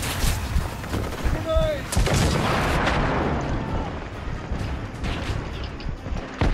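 Rapid bursts of gunfire in the video game The Order: 1886, with booming shots and a brief electronic whine, loud and close, over a busy game soundscape.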